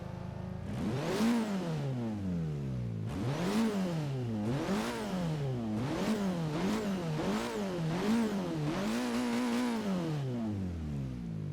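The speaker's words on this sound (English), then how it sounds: "you gotta love a VTEC engine. I mean, it does sound good, right?" A high-revving 2016 Honda Civic Type R VTEC engine in Forza Horizon 3 climbs and drops repeatedly through gear changes, a smooth rising whine cycling over and over, loud and close.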